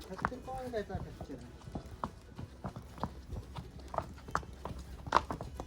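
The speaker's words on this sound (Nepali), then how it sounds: "यो त खच्चड होइन" Mule hooves clip-clopping in an uneven walking rhythm on hard ground near Shimla, close by, with people talking over them.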